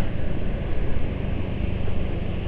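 A car engine idles after being revved, a steady, loud, close rumble that holds without change for a few seconds.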